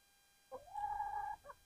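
Chickens being hand-fed give a single drawn-out tonal call lasting about a second, fairly close and clear, with a short clucking note at either end and no talk.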